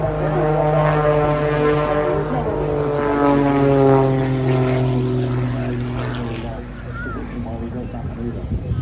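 Propeller airplane flying a display at the Eastbourne International Airshow, a loud, steady engine drone with strong harmonic tones that fades a little toward the end, with a commentator talking over it throughout.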